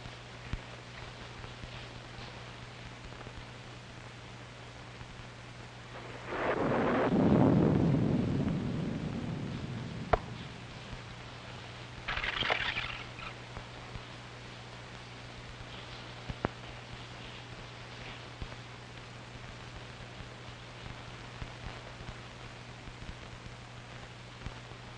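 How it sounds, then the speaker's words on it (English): A rumble of thunder with rain in an old 1943 crime film scene, one broad roll swelling around the middle and fading, followed by a fainter crack, over a steady low hum and hiss with no talking. "It's liable to rain all night."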